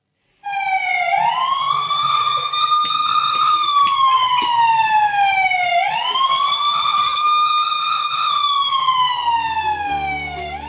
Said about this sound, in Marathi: उस्मानाबादच्या उमरगा तालुक्यातील जकेकुरवाडीमध्ये रोज संध्याकाळी 6 वाजता गावात हा सायरन वाजतो